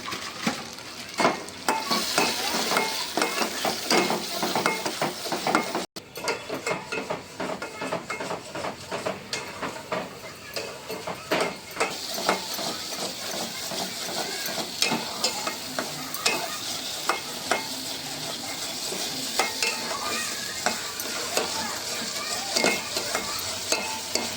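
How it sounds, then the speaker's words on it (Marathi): Spices with coriander powder roast in oil in a pan for paneer kabsa, a close, continuous sizzle with frequent scraping stirs running throughout and no voices. "आता हे सगळं भाजून घेऊया."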